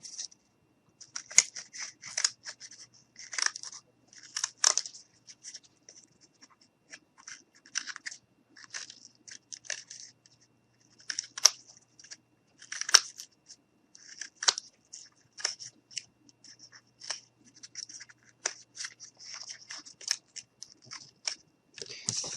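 Scissors snip through dried craft material to cut out pieces for gnome boots, in a close, irregular series of short crisp cuts with brief pauses between bursts.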